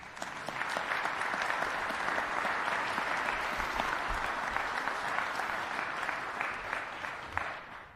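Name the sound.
audience applause for panel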